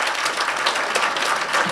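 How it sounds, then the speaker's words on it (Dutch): Audience applause at a poetry slam final in a Rotterdam reading room, a steady dense wash of many hands clapping throughout, fairly close and sustained with no talk over it. "mag ik even nog applaus voor Hanny"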